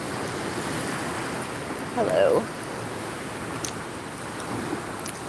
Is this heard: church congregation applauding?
no